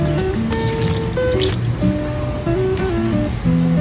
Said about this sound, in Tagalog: Ilagyan ko to ng tubig. Mga 1/4 cup.